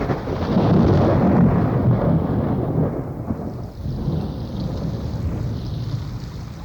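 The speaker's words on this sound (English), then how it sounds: "we had a big storm with a whole lot of thunder and lightning, and the rain poured down in a solid sheet" A thunderstorm sound effect for an audio drama: heavy rain pours in a dense, steady roar while low thunder rumbles loudly and continuously through it, swelling near the start and easing slightly later.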